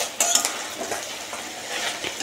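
Fish frying in a pan at home, with light crackles and sizzles broken by a few clinks and scrapes of a utensil stirring or turning the pieces, fairly soft and with no talking.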